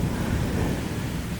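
A strong thunderstorm in Bordeaux: deep, continuous rumbling thunder over a steady wash of heavy rain, loud and close throughout, with no voices.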